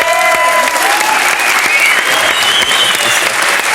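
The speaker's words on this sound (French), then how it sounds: "On applaudit Dorothée." Studio audience applauding Dorothée on a French television game show, a steady dense wash of clapping that holds at full strength for the whole stretch with no talk over it.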